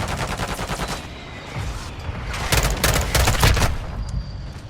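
Rapid automatic gunfire from a VTOL aircraft in Call of Duty MW2 sounds in dense, loud bursts and gets heavier partway through, with no speech.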